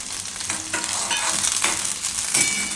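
Garlic for paratha fries in a pan with a continuous close sizzle and crackle, while occasional stirring scrapes rise over it, no voices present.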